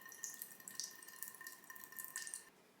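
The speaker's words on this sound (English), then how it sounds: "you're going to water until you see water that is dripping out" Water drips and trickles from the drainage of a freshly watered succulent pot, a steady run of small patters and splashes at close range with no voices.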